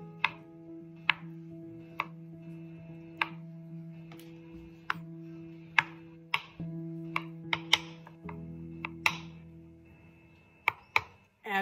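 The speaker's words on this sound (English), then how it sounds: "Cut your eggs." Knife chops through boiled eggs on a cutting board for potato salad, sharp distinct taps in an irregular rhythm, close and clear over a steady low hum.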